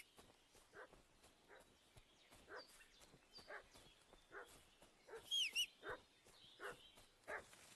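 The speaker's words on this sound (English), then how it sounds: "What's that dog making such a fuss about?" A dog in the video game Kingdom Come: Deliverance 2 barks repeatedly in a steady, insistent series of yaps, fairly distant and quiet against a faint background ambience.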